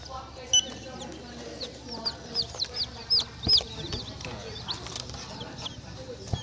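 Chickens, including young pullets, cluck and chirp in short bursts at moderate distance, with people talking nearby over a low background murmur.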